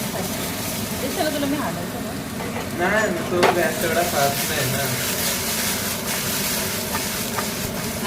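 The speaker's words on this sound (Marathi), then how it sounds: "तर बटाटा फ्राय करून झालेला आहे" Potatoes fry in a pan for a Spanish omelette with a steady, fairly loud sizzle and stirring throughout, while a person talks over it.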